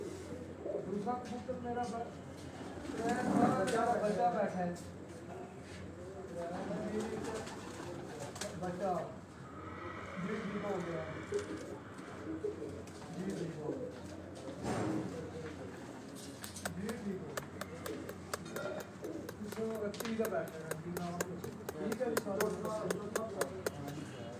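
Pigeons on a rooftop coo softly in the background, low rounded calls repeating under someone talking steadily nearby, with occasional wing flutters and scuffs.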